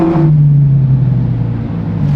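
A Ferrari climbs an Alpine road, its engine giving a loud, close, steady hum from inside the car, with the pitch dipping slightly as it pulls.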